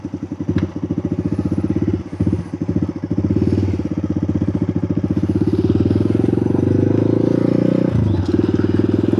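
A Honda Grom (MSX) motorcycle engine chugs close by in Pattaya with a rapid, pulsing rhythm, briefly revving and dipping before settling into a loud steady run.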